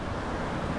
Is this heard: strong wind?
yes